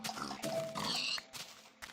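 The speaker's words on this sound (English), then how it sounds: "We got a pig armada over here." Minecraft pigs oink and grunt in a cluster of short, close snorts, several overlapping calls with brief gaps, alone without talk.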